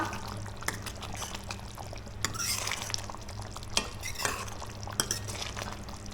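Ginger garlic paste is stirred into masala in a pan with a spoon, making steady scraping and clinks against the pan. A soft sizzle and low background hum sit beneath, with no speech.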